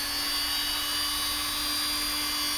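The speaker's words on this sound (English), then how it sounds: "I've got my little round Dremel." A small rotary Dremel tool with worn brushes spins at high speed in a workshop where a knife is being made, a loud steady high-pitched whine running throughout with no pauses.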